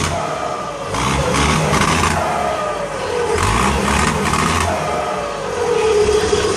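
A Ford truck's Nissan 175 engine, with injection problems, revs repeatedly through a hole cut in the exhaust before the muffler, rising and falling in pitch with a raw, rumbling roar up close.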